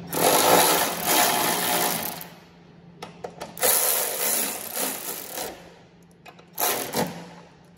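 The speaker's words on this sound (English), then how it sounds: "Just use this little ratchet to snug everything up" A small ratchet snugs bolts while a BMR rear cradle lockout kit is installed on a Gen 6 Camaro, giving several bursts of rapid, close clicking separated by short pauses.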